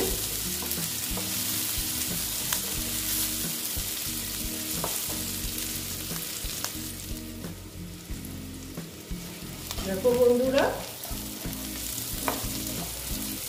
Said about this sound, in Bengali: পেঁয়াজটা পেঁয়াজটা মোটামুটি ভাজা হয়ে গেছে